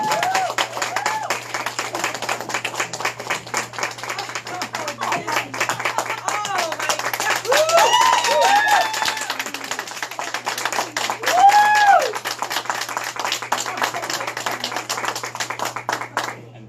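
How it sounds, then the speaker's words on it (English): An audience at a wine-and-art charity fundraiser gives a steady round of applause, with dense clapping that runs throughout while voices and a few whoops rise above it. "round of applause for him."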